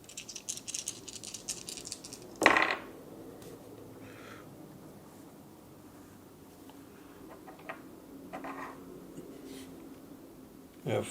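Dice roll and rattle during a tarot-style oracle reading at a table, a short clatter burst near the start followed by quieter handling ticks and faint rustling, with no speech.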